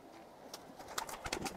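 Crested tip bango pigeons coo softly in a loft, faint low murmuring calls mixed with a few brief flutters and scuffles of movement.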